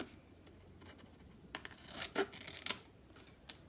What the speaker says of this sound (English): I'll cut them with the scissors this time